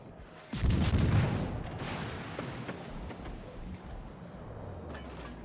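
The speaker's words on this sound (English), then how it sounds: "Amalfi's shooting HE too." Warship guns fire high-explosive shells in World of Warships: Legends, a heavy booming salvo hitting loudly near the start and then rolling off into a rumbling decay with scattered later thuds.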